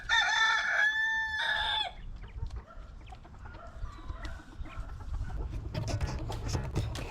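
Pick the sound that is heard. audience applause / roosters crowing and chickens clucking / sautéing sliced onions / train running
roosters crowing and chickens clucking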